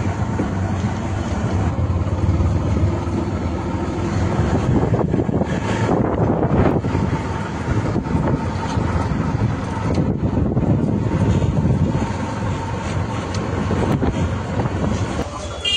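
An auto-rickshaw rides toward Sonarpur, a continuous rumbling engine and road roar with heavy wind buffeting the microphone throughout, loud and close.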